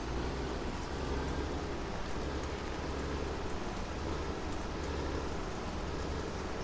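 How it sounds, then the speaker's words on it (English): Steady rain falling across a farm, a dense continuous hiss with a low rumbling undertone, even and unbroken throughout with no voices. "Boy, the rain makes everything just miserable."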